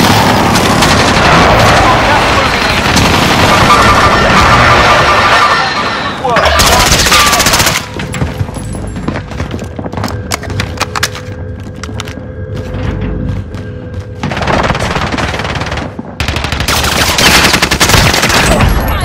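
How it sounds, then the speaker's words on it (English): Heavy Call of Duty Warzone combat plays out as an airstrike and gunfire combine: long bursts of loud automatic fire and booms, then a sparser stretch of clicks and mechanical sounds, then two more loud bursts. "Friendly precision airstrike inbound."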